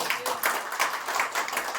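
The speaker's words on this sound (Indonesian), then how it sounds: "Berikan tepuk tangan buat Tuhan" A church congregation breaks into brief, dense applause, many hands clapping together in a quick burst of sharp claps, with faint voices mixed in.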